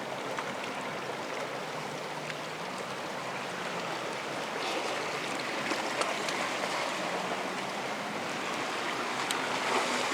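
Seawater washes and trickles steadily through rocky tide pools at Little Corona beach, a continuous moderate rush with soft splashes and light wind, no voices.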